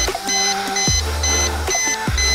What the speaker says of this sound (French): j'ai la radio qui bip, ça veut dire qu'il faut rentrer au bercail